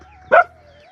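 A single short, sharp dog bark rings out close by against a quiet background with a faint steady hum.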